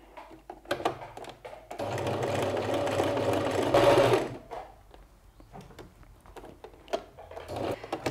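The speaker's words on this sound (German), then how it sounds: "Die Naht und hier wird zugenäht." Sewing machine stitching the seam of a fabric hair scrunchie, one sustained steady whir of about three seconds, close and fairly loud, framed by scattered taps and handling noises before and after.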